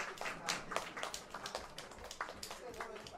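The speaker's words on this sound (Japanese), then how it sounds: "皆さん大きな拍手をお願いいたします" Applause from an audience at an acoustic music night: a burst of scattered hand claps, fairly close, with steady texture and slight swells, continuing without fading across the span.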